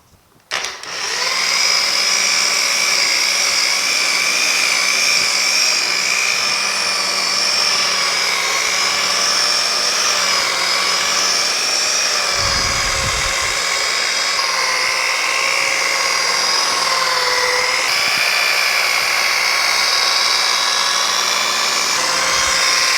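A power polisher runs on a 1950 Chevy truck fender with number 2 compound, a loud, continuous high-pitched whine held steady for over twenty seconds with slight shifts in pitch as it works.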